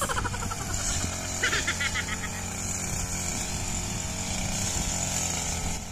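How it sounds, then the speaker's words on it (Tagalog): A grass cutter engine runs continuously at a farm, a steady buzzing drone at moderate distance, with voices talking faintly over it. "Natuwa, guys, si Alex natin sa grass cutter natin."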